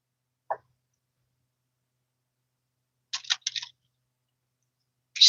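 Tarot cards shuffled by hand at close range, heard as a few short, crisp papery bursts separated by silence, with no talking.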